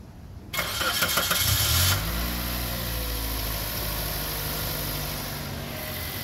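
A car engine is started, with a brief starter crank catching into a loud roar that settles into a steady, even idle. No voices are heard.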